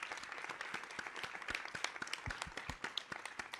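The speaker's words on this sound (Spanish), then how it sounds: "Aplauso fuerte." A small group claps steadily for a few seconds, the applause faint and somewhat sparse, with no voices over it.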